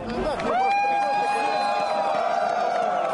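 A dense protest crowd at a Navalny rally in Russia roars continuously, with a loud sustained whistle or horn tone riding over the broad crowd noise.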